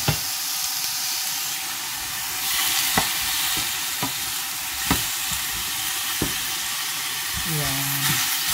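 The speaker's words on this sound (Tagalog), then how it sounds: "Lagay ko na to chicken wings." Chicken wings sizzle steadily in a hot pan, a constant frying hiss broken by sharp clicks and scrapes of a utensil; near the end a brief rising whine cuts in.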